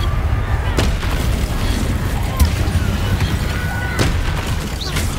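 Confringo spell blasts in Hogwarts Legacy, a few muffled booms at roughly regular intervals over a steady rumbling battle din.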